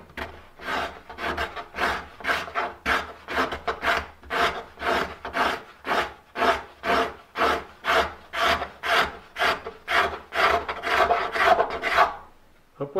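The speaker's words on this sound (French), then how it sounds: "Le racloir se tient par les bords et il est légèrement arqué par les pouces qui servent à pousser et il faut trouver l'angle le plus efficace pour lever les copeaux" A hand cabinet scraper, held by its edges and flexed by the thumbs, pushes across a wooden marquetry surface fixed to a workbench, lifting shavings in steady rhythmic rasping strokes, about two per second, close and clear with no talk.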